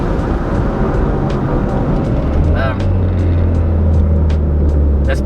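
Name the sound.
car accelerating as the turbo boost kicks in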